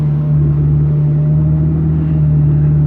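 Supercharged 1991 Ford Taurus SHO engine idling, a steady, loud, close low hum with a strong droning tone and no change in pace across the whole stretch.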